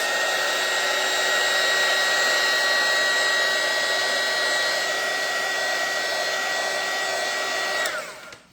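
A hair dryer blows steadily at close range for about eight seconds, drying acrylic-painted snowman crafts, with a whining tone over broad airflow that cuts off sharply at the end.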